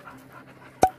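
Close dog panting, rhythmic and soft, ending in a brief sharp vocal burst, with no talking.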